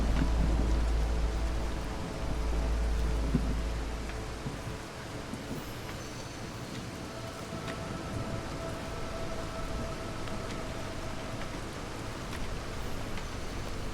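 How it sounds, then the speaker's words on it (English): A storm in the video game Against the Storm brings steady rain and a low, rumbling roar that eases after a few seconds into a continuous wash of rainfall. "And it is the storm again."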